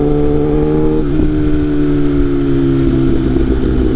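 A sport motorcycle engine, likely a Yamaha R3 or Kawasaki Ninja, idles and revs nearby on a ride in Florianópolis with a steady, throaty exhaust drone, pitch shifting slightly as it throttles.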